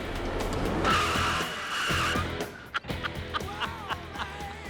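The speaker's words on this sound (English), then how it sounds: "Tori accelerates to 50 miles an hour. And when he hits the stop line, he slams on the brakes." A car braking hard from 50 mph: a loud, sustained tire squeal and skid that lasts a couple of seconds, followed by brief thumps and rattles as it stops.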